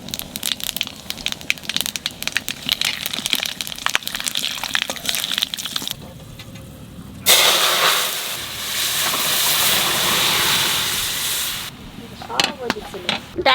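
Panch phoron, dried red chilli and bay leaf go into hot oil for a masoor dal tempering, with dense close crackling first, then a loud, steady rushing sizzle that fades back into scattered pops.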